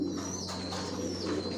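Racer pigeons coo in a loft, a low throaty call rising close by over a steady background hum, with faint chirps above it.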